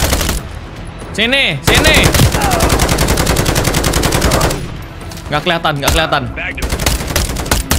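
Sentry gun in Call of Duty Modern Warfare 3 firing rapid continuous automatic bursts, loud and close, with brief pauses and game effects, while people talk excitedly over it.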